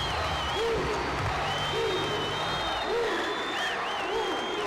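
Baseball crowd cheering and clapping in the stands, a loud continuous wash of applause and shouts with whistles rising over it throughout.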